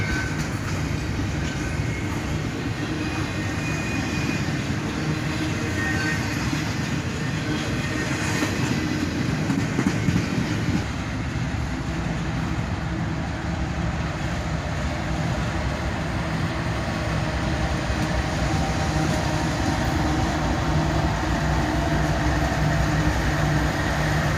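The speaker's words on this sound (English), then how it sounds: "CSX 3194, the spirit of our law enforcement, leads a northbound intermodal train here" CSX freight locomotive leading a long northbound intermodal train rolls by with a sustained heavy rumble and rattling cars, a steady loud roar that shifts slightly midway as the train keeps passing.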